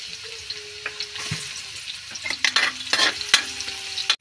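Garlic and onion sautéing in a pan for Bicol express, with a soft sizzle under repeated clattering stirs and scrapes of a utensil against the pan, louder bursts toward the end.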